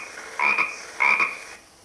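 A frog croaks twice in a children's bedtime story played from an audio cassette, two evenly spaced, fairly quiet calls over a faint hiss.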